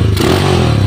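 Motorcycle engine idling after a carburetor replacement, a brief, loud, close, steady rumble with no throttle applied.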